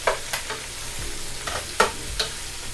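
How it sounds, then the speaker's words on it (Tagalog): Cabbage sautéing with browned pork in a pan sizzles under the repeated scrapes and clatters of a spoon stirring it, a handful of distinct strokes over a low hiss. "pwede na natin ilagay ang ating repolyo. Haluin lang natin."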